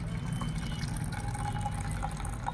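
Water from boiling cluster beans is poured into a glass, a short, close trickle and gurgle of liquid filling the vessel that lasts only a couple of seconds.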